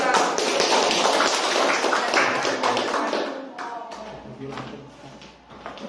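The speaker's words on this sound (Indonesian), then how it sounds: "kita beri tepuk tangan untuk kelompok 2" A school class applauds group 2 after their science presentation, a dense rush of clapping that tapers off into a few scattered claps as a voice talks over the end.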